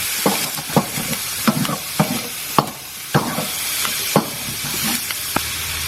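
Sizzling mince mixture stirred in a hot pan, with a steady frying hiss and repeated sharp scrapes of the spatula at irregular intervals, close and fairly loud.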